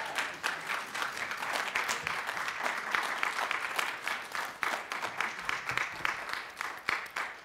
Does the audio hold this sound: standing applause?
yes